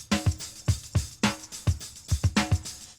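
A sampled funk drum break plays a tight groove of punchy kick and snare hits with crisp cymbals, clear and alone for a few seconds.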